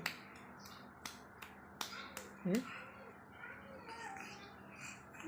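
A small child claps hands in a quiet room: a handful of sharp, irregularly spaced claps, close and crisp, with a brief childish vocal sound mixed in among them.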